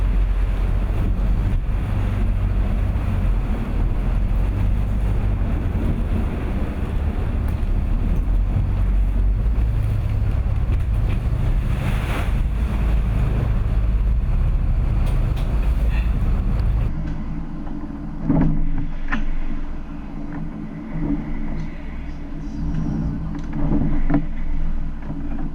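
Rough seas pound a motorboat exposed to wind and waves after leaving shelter; loud, continuous roaring water and wind buffeting dominate, then ease into a lower rumble with intermittent splashes and knocks.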